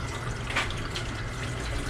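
Hot water runs steadily from a tap, rinsing a turquoise and lavender spiral tie-dye towel. It makes a continuous, even rush of water with no talking.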